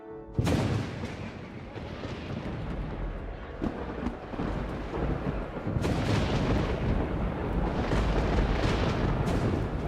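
Deep thunder rolls loud and continuous throughout, swelling stronger in the second half, as a stage-musical effect for a scene of lightning, trumpet blasts and a smoking mountain.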